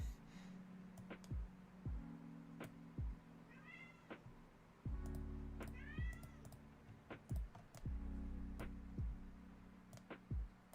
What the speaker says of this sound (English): I can get hear the meows.